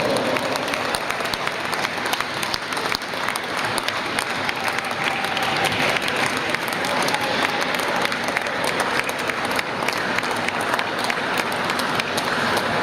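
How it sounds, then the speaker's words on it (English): Continuous crowd applause in an indoor arena at a wheelchair rugby cup final, dense even clapping that holds steady and moderately loud for over ten seconds, with no clear speech on top. "Come on, keep the applause going, please!"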